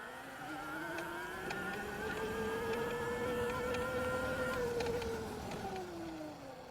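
An EBOX V2 electric bike runs flat out around a yard, its motor giving a steady, fairly loud whine that climbs slightly in pitch and then eases off over several seconds, with no voices.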